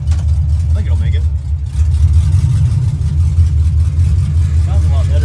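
A 1975 Pontiac Firebird Formula with a swapped-in LS engine runs close by, a loud, steady low rumble with a slight rise in revs, while people talk nearby.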